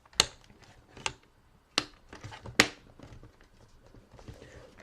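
Screws being fitted back into an HP laptop during a RAM upgrade, heard as four sharp, close clicks and taps spaced about a second apart, with soft handling noise between them.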